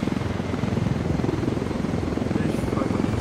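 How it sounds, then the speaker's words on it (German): Helicopter in the video game Ghost Recon Wildlands, a loud, continuous rotor thump with a rapid pulsing beat and broad engine roar, steady and close throughout. "Ach, das ist der Heli von mir, ne?"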